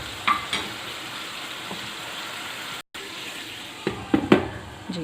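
Vegetables in masala and about a cup of water cooking in a covered pan over low heat, giving a steady soft sizzle and simmer, with a few clinks of the lid or spoon near the end.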